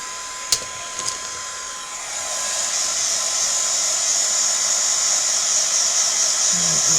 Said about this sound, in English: and then just heat that up with my heat tool